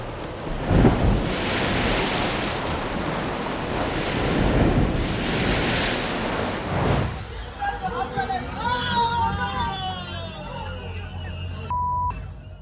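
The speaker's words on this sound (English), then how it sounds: "Watch how the water gets squeezed through that narrow inlet." Ocean water surges through a narrow coastal inlet with a loud, rushing wash and wind buffeting the microphone. The roar then drops away to quieter sounds.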